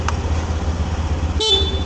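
A short motorcycle horn toot sounds near the end, a bright steady tone cutting over a loud, rumbling idling motorcycle engine.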